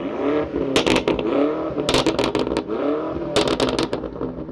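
BMW M5 CS engine and exhaust rumbling loudly at close range, with repeated sharp revs rising out of a steady burbling idle, three distinct blips across the stretch.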